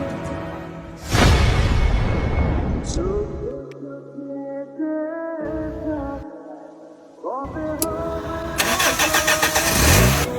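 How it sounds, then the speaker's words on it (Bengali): A car engine cranks and fires up during a driving lesson, then runs with uneven revving and idling nearby, while voices talk briefly in the background. "ইঞ্জিনটা স্টার্ট দে তা আমি দেখাইতেছি"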